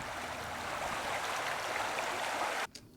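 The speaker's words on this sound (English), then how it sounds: "we have a river far, which basically just the same river recorded a bit further away" A river recorded from further away gives a soft, continuous rushing wash of water, faint and even, until it cuts off abruptly just before the end.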